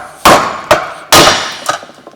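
Four sharp metallic strikes in two pairs, loud and close, each ringing briefly before the next blow.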